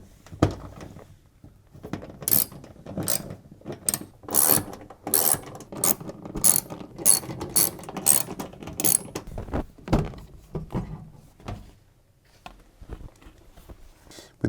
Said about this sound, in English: use your socket set and 7mm socket head to remove all the bolts